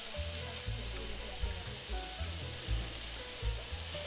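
Schezwan chutney, chilli powder, soy sauce and tomato ketchup sizzle and fry in a hot pan for spicy Schezwan fried rice, a steady close crackle with rhythmic scraping of a spatula stirring.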